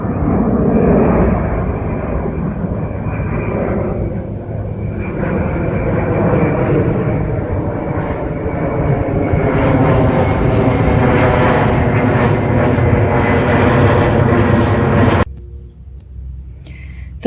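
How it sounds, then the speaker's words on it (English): A propeller airplane drones overhead above a backyard vegetable garden, a steady broad engine roar that swells and holds for about fifteen seconds before cutting away, with insects or crickets chirping faintly beneath it. "Incoming plane."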